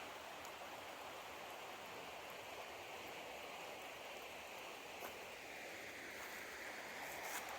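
Big Fir Creek, a stream feeding the Umpqua River beside the North Umpqua Trail near Lemolo Lake, flows in a steady, close, rushing wash of water with no talking.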